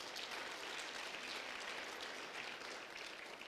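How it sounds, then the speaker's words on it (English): At a SETA skills summit, an audience claps in a steady, continuous wash of applause, heard quietly and at a distance without other sounds. "they deserve a very, very loud round of applause for the work that they have done"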